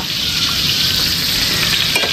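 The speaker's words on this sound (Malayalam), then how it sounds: "നമ്മള് ഫ്രഞ്ച് ഫ്രൈസ് പൊരിക്കാൻ പോണു" French fries frying in a hot pan, a steady, close, even sizzle with fine crackle throughout and no voices.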